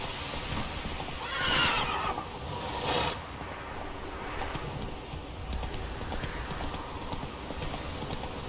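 A horse in the video game The Witcher 3 whinnies loudly and close, then its hooves clop and drum steadily as it rides on.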